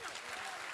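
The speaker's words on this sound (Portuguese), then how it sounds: "acho que merece palmas" Applause from the audience at a couples' congress talk, a short steady wash of clapping heard from a distance and fairly faint.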